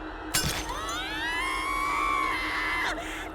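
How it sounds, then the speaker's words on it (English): A china platter heaped with maggots smashes to pieces in the horror game Tiny Bunny: one sharp crash near the start, followed by a long, eerie wailing tone that rises and then fades out. "The china platter, filled to the brim with maggots, smashed into tiny pieces."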